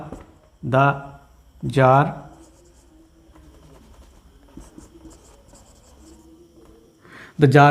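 Handwriting with a pen or chalk, faint soft scratching strokes in the quiet stretch between bursts of a person speaking at the start and end.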